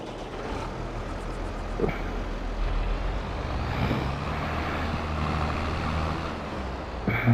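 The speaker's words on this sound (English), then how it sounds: "leave this tractor here." A tractor engine runs steadily and close by outdoors, a continuous low rumble that holds at an even level throughout, with a few brief clunks and no one speaking.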